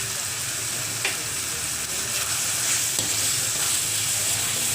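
Salted chicken bones sauteed in a pan, a loud steady hissing sizzle close up with a few faint spoon scrapes, no talk.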